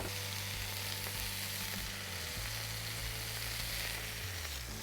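Wagyu beef smash patties fry in Wagyu beef tallow with a loud, dense, continuous sizzle heard up close and alone, without any pauses or speech.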